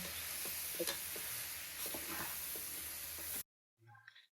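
A tamarind-leaf dal mixture is stirred in a pan, making a close sizzling, scraping hiss for about three seconds before it cuts to silence, followed by a brief faint rustle.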